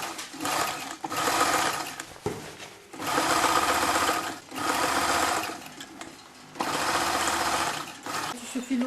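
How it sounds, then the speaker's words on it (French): A serger overcasts the sleeve seam of an unlined shirt-jacket in several loud, steady bursts of whirring stitching separated by short pauses, with people talking quietly between runs. "Et on surfile en mettant la manche au-dessous."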